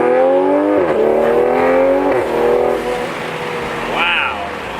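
A Toyota Supra A90 running about 420 wheel horsepower accelerates hard, its engine climbing steeply through several gear changes, loud and close from inside the car, with a voice talking over it.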